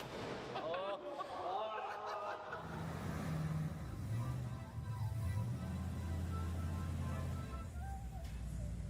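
A car engine revs while driving, a low droning exhaust note rising and settling beneath louder, excited talking from people inside, with some wind and road noise.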